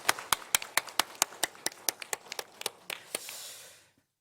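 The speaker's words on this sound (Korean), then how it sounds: "우리 수고하는 우리 유년부 선생님들을 위해서 다시 한번 더 박수로 한번 격려하겠습니다" A church congregation at a Sunday morning service claps in encouragement for the children's Sunday school teachers: about fifteen sharp, evenly spaced claps, close and distinct, then a brief blurred burst before fading out.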